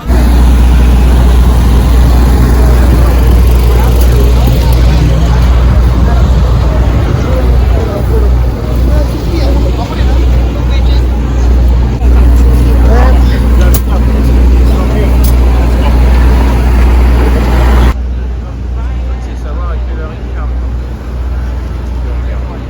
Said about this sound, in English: But yeah, I'm in train station about to go.